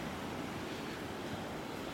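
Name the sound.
ocean waves on the beach in North Naples, Florida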